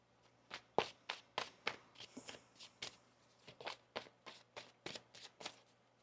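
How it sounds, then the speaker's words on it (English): Crisp bursts of tarot cards being shuffled, repeated in quick, uneven flurries with short pauses, close by and fairly quiet. "One more shuffle."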